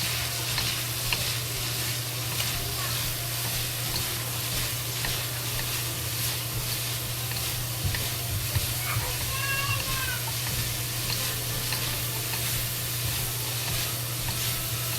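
Lacinato kale stir-frying with pork in a wok, a steady dense sizzle with scraping stir noises throughout, constant low hum beneath, close and fairly loud.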